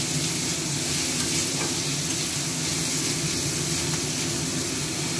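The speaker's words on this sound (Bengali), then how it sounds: "ভাজা ভাজা হোক," Vegetables such as cauliflower frying in a pan for a Bengali home breakfast, a steady close sizzle that stays loud and even throughout with no talking.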